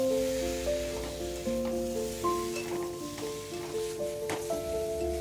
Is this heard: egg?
yes